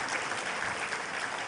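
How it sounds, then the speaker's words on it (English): Steady applause from a crowd at an onboarding and matriculation ceremony, an even wash of many hands clapping at moderate volume with no voices over it. "Round of applause for Alhaj, ladies and gentlemen."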